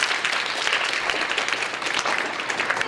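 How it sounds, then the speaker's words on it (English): Audience applause on a radio show, a dense, steady wash of many hands clapping throughout, loud and continuous with no talk over it. "Can we please get a round of applause?"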